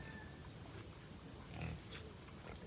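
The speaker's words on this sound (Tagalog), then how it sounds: "At yung pong bulugan na QB Cross Pampanga Native ang nandito." A QB Cross Pampanga Native boar pig in a farm pen gives a few faint, low grunts amid steady background hiss and distant bird chirps.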